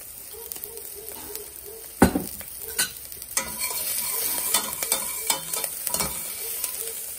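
Garlic frying in olive oil sizzles steadily in a pan as a utensil stirs and scrapes, with occasional clinks against the pan, close and moderately loud.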